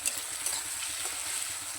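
Garlic frying in oil in a pan, being browned for a home-cooked meat curry, with a steady close-up sizzle and crackle, no talking.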